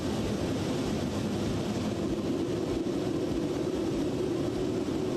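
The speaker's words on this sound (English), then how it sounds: "The engines sound a whole lot better on this airplane." Simulated jet engines of a Flight Factor Boeing 777 in X-Plane give a steady, even low roar with a constant hum, unbroken and without talk.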